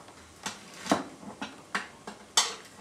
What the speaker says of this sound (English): all I'm going to do with this is chop it through the middle